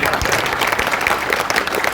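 An audience at a traffic rules training program applauds during a devotional song about Shri Radha, a dense, continuous wash of many hands clapping, loud and close throughout.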